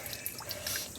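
Water running out through a hose at a fish pond makes a continuous gushing, splashing flow, close and steady for about a second.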